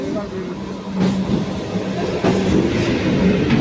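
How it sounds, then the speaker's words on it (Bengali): A train rumbles in with rhythmic clacking and a steady low roar, loud and close, with voices of people nearby mixed into the noise. "ফাইনালি ট্রেন এসে গেছে"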